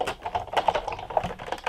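A die-cutting machine is cranked by hand to run stitched nested dies and a cutting pad through, making a quick, close series of dry clicks and ratcheting taps in an uneven rhythm.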